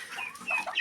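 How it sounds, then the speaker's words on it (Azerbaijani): Turkey hens in a farmyard cluck in a short series of soft, close notes, with no talk over them. "Bu nənəmin hündüşkası, bu da əmimin hündüşkası."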